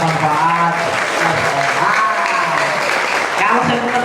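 Listeners at a Ramadan sermon gathering break into loud sustained applause, with voices talking through and over the clapping the whole time.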